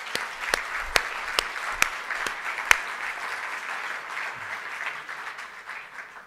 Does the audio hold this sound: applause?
yes